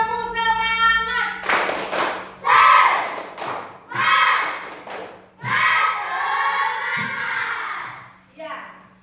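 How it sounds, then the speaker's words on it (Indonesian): A school class does a rhythmic spirit clapping chant, with children's voices and sharp hand claps and thumps in quick patterned bursts, close and loud, between brief pauses. "Tepuk semangat."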